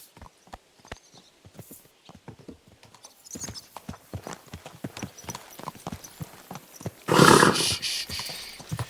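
Steady clip-clop of horse hooves walking at an even pace in the video game Kingdom Come: Deliverance 2, ending with a loud snort or whinny close by.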